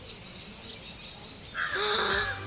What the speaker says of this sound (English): The birds are singing. They sing very beautifully.